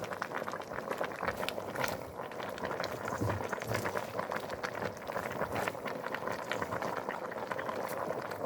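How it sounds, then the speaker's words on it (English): A pot of cabbage coming to the boil, with dense, steady bubbling and popping at moderate volume, a continuous simmering texture close by. "To just bring it to the boil"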